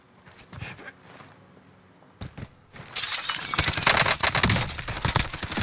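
Bursts of automatic gunfire in the Call of Duty Warzone video game, starting with a few scattered shots and breaking into a loud, dense, sustained volley with sharp cracks, some shattering sounds and faint voice chat underneath.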